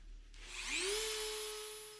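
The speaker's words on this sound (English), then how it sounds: "I deburr the sharp edges on a bench grinder" Bench grinder spinning up as sharp edges of steel lathe jaws are deburred, a rising motor whine settling into a steady loud tone with bright broadband grinding hiss, alone without speech.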